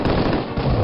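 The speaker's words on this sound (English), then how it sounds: "that man is shooting at me with a Tommy gun" A Tommy gun fires in the video game Killing Time, a rapid burst of close, loud automatic shots heard on its own.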